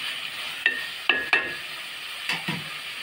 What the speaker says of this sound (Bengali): এখন নাড়াচাড়া করে দিচ্ছি, সেগুলো একটু ভালো করে কষিয়ে নেব।